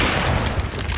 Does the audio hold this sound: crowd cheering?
no